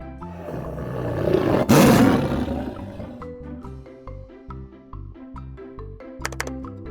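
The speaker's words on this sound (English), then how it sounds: "Tiger." A tiger's roar swells to a loud, rough peak near the middle, then trails off into a lower rumble with a few softer growls; nobody speaks.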